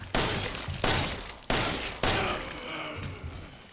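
Gunshots with enhanced ammo ring out in Resident Evil 7, four sharp, loud blasts roughly half a second apart, each followed by a short echoing decay, with a softer thump afterward.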